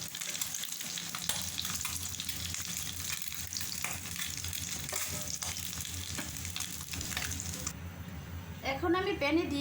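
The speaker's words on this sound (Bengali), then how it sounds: "এখন আমি ডিমগুলিকে ভেজে নেব।" Eggs fry in oil in a pan with a loud, constant sizzle as they are turned and lifted out, with scraping stirs throughout and a voice speaking briefly at the end.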